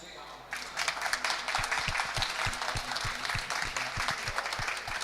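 A conference audience breaks into sustained applause, many hands clapping together in a dense, even burst that stays loud until the end, with no one speaking over it.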